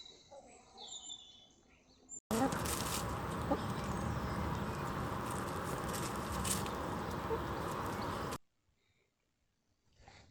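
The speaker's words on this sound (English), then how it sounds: "We've got the chickens there, which we absolutely adore" Chickens cluck and call in a backyard garden amid a steady outdoor wash of noise, with fainter bird sounds before and after the loudest stretch.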